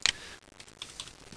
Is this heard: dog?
no